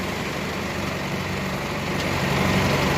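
A JCB loading gravel into a tractor, heard as a steady, loud diesel engine drone with low rumble close by, running without pause and without talk.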